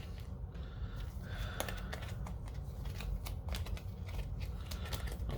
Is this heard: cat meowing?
no